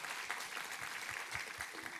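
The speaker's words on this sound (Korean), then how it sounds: "우리 하나님께 감사와 영광의 박수 올려드리겠습니다" A church congregation applauds at a Sunday worship service, a short burst of dense, steady clapping heard at a moderate distance.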